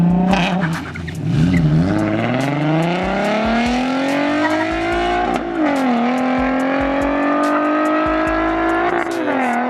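Bolt-on V6 Mustang racing 6th gen Camaros, its engine revving hard and climbing steadily through long pulls with brief dips at the shifts, loud and close throughout.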